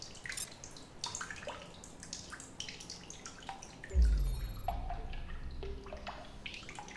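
Water dripping in the survival video game The Solus Project, a few sharp drip sounds over a rumbling ambient background, with a louder splash-like swell midway and scattered drips continuing afterward.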